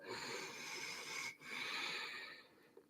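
Slow, deep breathing held during an Ashtanga yoga pose, a faint airy inhale and exhale close by with a short pause between them.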